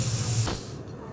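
A pressure cooker holding chicken soup vents a loud burst of hissing steam that cuts off abruptly after half a second, leaving a faint quiet tail.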